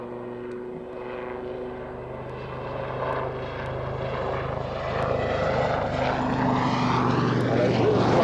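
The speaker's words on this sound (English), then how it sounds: "Powerful aircraft, the Lynx." A Lynx helicopter flying an airshow display at RAF Waddington, rotor and turbine noise swelling steadily louder as it approaches, with a sweeping pitch shift and a faint commentator voice underneath.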